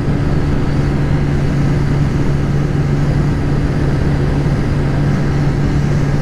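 Two Bajaj motorcycles, a Pulsar 125 and a Pulsar NS125, run flat out in a drag race at top speed, producing a loud, steady engine drone with wind rush that holds constant throughout.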